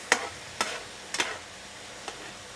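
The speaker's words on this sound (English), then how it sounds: "I want it frying in its juices." Potatoes fry in a pan, giving a soft sizzle with a few sharp clinks or scrapes of stirring spaced through it, close by with no talk.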